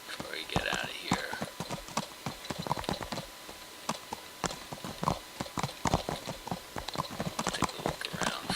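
Horse hooves clip-clop steadily in the Kingdom Come: Deliverance video game, a continuous run of close, crisp hoofbeats at a walking pace.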